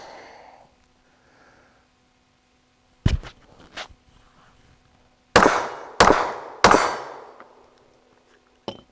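A Sig P365 pistol fires outdoors, loud sharp reports with quick decaying echoes: one shot, a pause, then three shots in quick succession and a final report at the end, with faint talk at the start.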